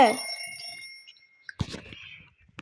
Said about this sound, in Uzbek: Ertalabdan kim telefon qilyapti?